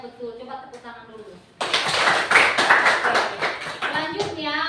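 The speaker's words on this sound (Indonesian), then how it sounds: "Coba tepuk tangan dulu." A teacher's voice speaks briefly, then a classroom of pupils breaks into loud, sustained hand clapping that continues to the end, sharp individual claps standing out in the crowded patter.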